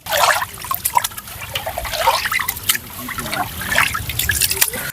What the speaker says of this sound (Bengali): সকাল সকাল ঠান্ডা জলে চালগুলো ধুয়ে নিচ্ছি